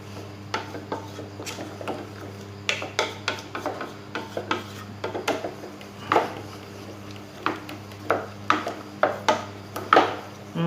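A spoon stirs young coconut ice cream mixture with coconut water in a pot off the heat, making repeated close rhythmic scraping strokes against the pot that grow stronger toward the end.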